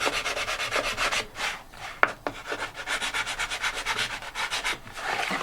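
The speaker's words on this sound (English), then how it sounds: "Just go across here, just kind of round off, chamfer that a little bit." Sanding or filing to round off and chamfer the edge of a GameCraft tank transport model part, a steady close rubbing rasp in repeated back-and-forth strokes with a couple of sharp ticks midway.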